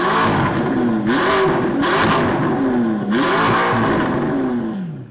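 A McLaren GT fitted with a custom exhaust revs repeatedly, rising and falling in several loud, close blips with a raspy, exotic tone and no voices.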